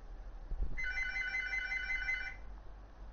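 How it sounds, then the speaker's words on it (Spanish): A telephone rings in a single sustained trill of about a second and a half, heard during a WWE 2K15 wrestling game stream, fairly clear over a low background hum with no talk. "Me están llamando al teléfono, pero lo siento mucho, no puedo contestar."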